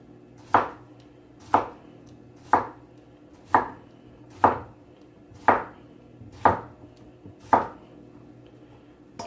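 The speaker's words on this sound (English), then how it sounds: "I'm going to cut them up in about 1/4 inch slices" A knife chops cucumbers into quarter-inch slices on a board, making nine crisp, evenly spaced cuts about a second apart, close and clear with no talking.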